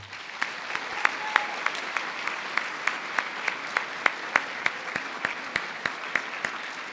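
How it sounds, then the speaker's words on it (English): A school community speaker series audience claps to welcome a speaker: soft, steady applause from a moderate distance, with a few sharper claps standing out at regular intervals. "please provide a round of applause as we welcome Mr."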